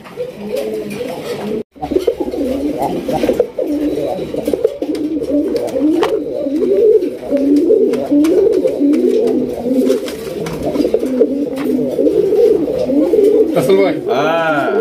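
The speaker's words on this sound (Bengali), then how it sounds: "এত সুন্দর করে কবুতরগুলো ডাকানোর পরে" Large Raj Golla pigeons coo continuously in a dense, overlapping chorus of low, rolling calls, close and loud, with a brief break near the start.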